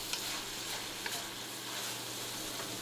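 Ginger, garlic and bean paste frying with pork in a wok for Sichuan noodle soup, a constant quiet sizzle with a few faint scrapes of stirring.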